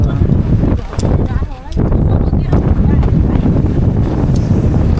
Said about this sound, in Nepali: ए के साह्रो हावा हो त